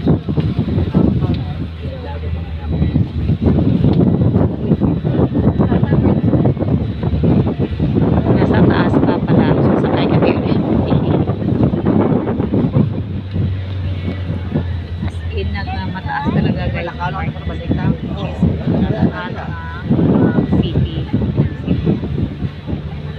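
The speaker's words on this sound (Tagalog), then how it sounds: "Sarap ng hangin." Wind buffets and roars in waves around people talking on a mountaintop in Busay, Cebu, swelling loud for stretches and then easing.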